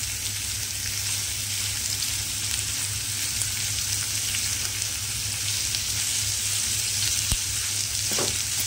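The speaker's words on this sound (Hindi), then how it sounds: "धीमी आंच पर 5 से 6 मिनट इसको अच्छे से" White chicken gravy cooking on a low flame, a steady close sizzle and bubbling hiss throughout with no voices, plus one brief faint clink near the end.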